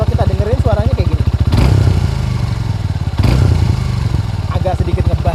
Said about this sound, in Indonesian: jadi seperti ini suaranya dari Gixxer SF2